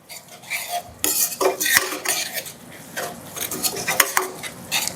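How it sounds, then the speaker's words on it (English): A spoon scrapes and knocks around a pot of thick curried goat, with several clinks against the metal sides in an irregular rhythm, close and fairly loud. "I'm going to give my curry a stir"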